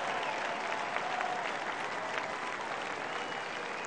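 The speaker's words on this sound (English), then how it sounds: "Love these Spider fans on their feet, clapping." Football fans at a University of Richmond game stand and applaud an injured player, a dense, steady wash of crowd clapping heard from a distance that holds evenly throughout.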